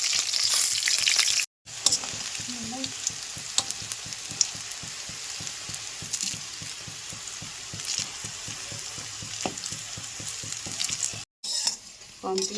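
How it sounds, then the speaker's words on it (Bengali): Mustard flower fritters sizzle and crackle steadily in hot oil, a dense close frying hiss with occasional stirring clinks, broken by two brief silent gaps. "গরম তেলের মধ্যে ছেড়ে দিলাম"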